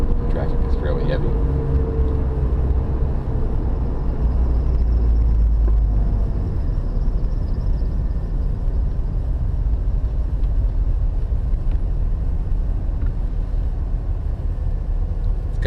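A small car drives home through heavy commute traffic among larger trucks, its cabin filled with a loud, continuous road rumble and engine drone, with a voice faintly present beneath.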